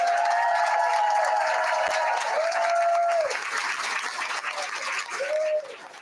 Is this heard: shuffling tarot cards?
no